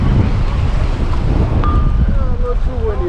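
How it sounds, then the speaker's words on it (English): Strong wind buffeting the microphone at a fishing inlet on Florida's south side, a constant loud low roar with water and surf beneath it, steady throughout. "A little too windy today out here in the inlet"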